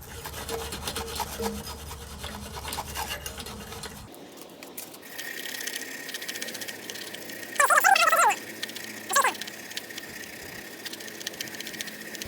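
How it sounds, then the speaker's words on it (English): A brass brush scrubs thick rust off a Kohler 149cc XT engine on a Lawn-Boy AWD mower: two short, rough, rasping bursts of scrubbing over a quiet background, up close. "So this rust is pretty thick on here, so I'm switching to a brass brush."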